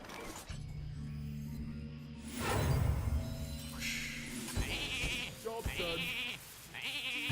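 Sheep bleating from a Mass Sheep spell in Hearthstone: a magical whoosh and crash followed by several short, high, repeated bleats in quick succession, loud and close.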